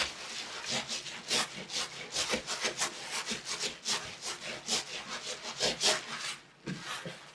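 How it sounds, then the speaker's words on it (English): Wet wool being rubbed by hand over bubble wrap for a felted flower fairy house top, a steady run of close, rhythmic swishing strokes with no talking. "So I want to make sure I'm rubbing from all directions, right out over the edges."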